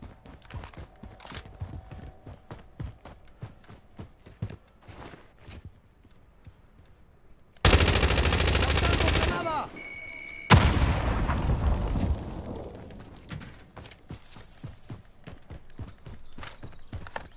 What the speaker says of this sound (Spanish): Les tiró un par de tiros.